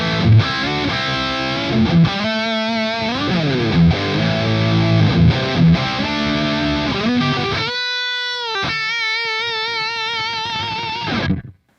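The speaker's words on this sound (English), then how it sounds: "Let's go up with the gain all the way and see what we get." An electric guitar plays through a Revv Generator 100R amp with the gain at maximum, giving thick, saturated riffs and chords that shift and slide, then a ringing sustained chord before an abrupt stop.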